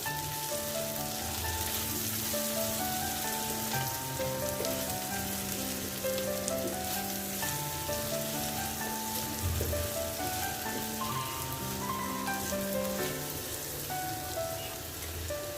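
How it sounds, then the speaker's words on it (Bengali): Yardlong beans with salt and turmeric fry in a pan, a steady, moderately quiet crackling sizzle like rain that runs unbroken under a soft melodic music track. "আবারও এক মিনিটের মতো ভেজে নিব"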